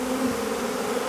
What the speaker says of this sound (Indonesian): Leher kamu sudah penuh dengan lebah.